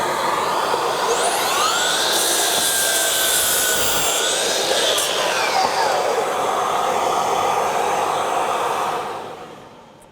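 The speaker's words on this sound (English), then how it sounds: "We'll just push our button and turn the vac on." Milwaukee M18 FUEL 9-gallon dust extractor vacuum runs loud and steady through a saw cut, a continuous broadband roar with rising and falling whine from the cutting, then the noise starts fading near the end.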